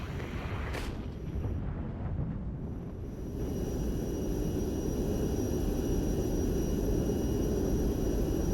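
Aircraft in the Regiments strategy game roar overhead as a broad, steady rumble that swells and holds loudly, with distant booms of battle mixed in beneath.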